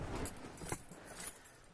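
A bunch of keys jangles in a few short, faint metallic shakes near a 24v Cummins truck in a garage, alone without talk.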